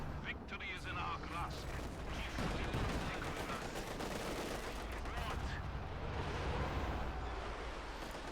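Gunfire and explosions in the Company of Heroes 2 real-time strategy game, Wehrmacht versus Soviet forces, a dense continuous wash of rifle, machine gun and artillery fire filling the whole stretch.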